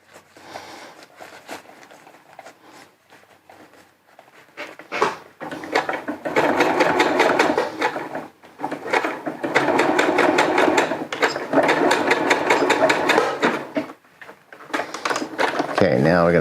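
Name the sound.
sewing machine stitching rain overmitt fabric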